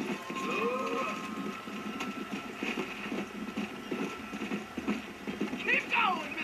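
Horse hooves clip-clop steadily in the video game Red Dead Redemption, a rhythmic trotting patter under a player talking over it, with a brief whinny-like call near the end.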